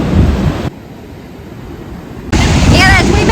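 Devil's Throat waterfall at Iguazu Falls, a heavy broadband roar of crashing water that drops out briefly mid-clip and returns just as loud.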